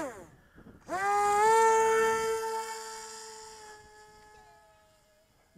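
Small model aircraft motor on the Red Wing spinning up for takeoff at about 40% throttle, a sudden loud whining tone that holds, then slowly fades and drops away as the plane climbs off.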